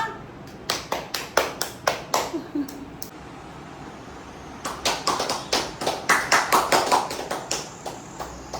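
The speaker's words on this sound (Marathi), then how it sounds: "टाळ्या वाजवा." A few people clap in steady rhythm at a fifth wedding anniversary celebration at home. Close, sharp claps come in a burst, pause for about two seconds, then resume in a second, slightly faster run.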